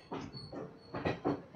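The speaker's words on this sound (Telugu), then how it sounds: "బరంపూర్ స్టేషన్ నుంచి అయితే మా ట్రైన్ అయితే స్టార్ట్ అయిపోయింది" The Tirupati-Puri Express pulls out of Berhampur station, its wheels giving four evenly spaced, heavy clacking bursts over a low rumble, heard up close.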